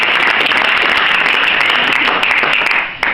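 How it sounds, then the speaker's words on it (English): Audience applause at an exhibition opening in a library in Dun Laoghaire, a loud, dense wash of many hands clapping that holds steady and then starts to fade at the very end. "A round of applause."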